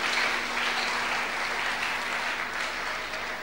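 A church congregation claps steadily in dense, continuous applause that fades slightly toward the end, with no talk over it.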